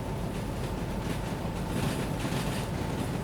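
A train locomotive in the Derail Valley video game runs steadily with a dense, continuous rumble and rolling noise, loud and constant throughout with no talk.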